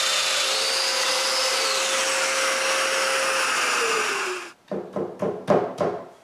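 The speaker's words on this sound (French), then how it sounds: "Je perce les mortaises et je colle tout le cadre ensemble." Drilling mortises in a wooden cabinet frame: a steady high-pitched power drill whine that winds down, followed by several short bursts of drilling in quick succession.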